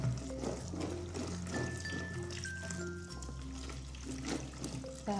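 Water pours and trickles over boiled vegetables and long beans being rinsed for a spicy lodeh, a steady close splashing flow with no talk.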